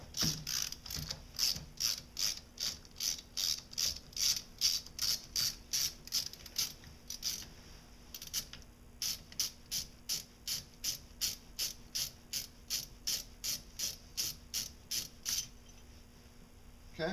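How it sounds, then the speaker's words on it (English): A ratchet fitted with a length of conduit pipe as a breaker bar clicks rhythmically while loosening a bolt on a 2002 Audi S4, around forty sharp, evenly spaced pawl clicks in quick strokes, close and alone with a brief pause midway. "So I slid that over my ratchet, and we're just going to lefty-loosey it."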